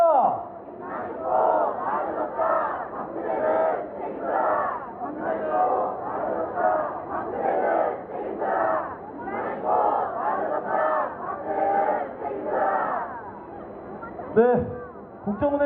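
Protest crowd at a candlelight rally in Gwangju lets out a long collective shout, a sustained roar of many voices rising and falling together before breaking off near the end.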